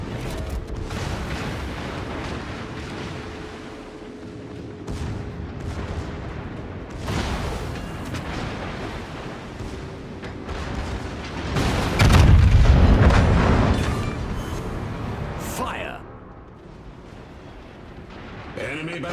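Heavy naval guns firing in World of Warships, the HMS Lion battleship in a sea battle: deep booming salvos rolling under game music and callouts, with the loudest cluster of blasts swelling midway before fading.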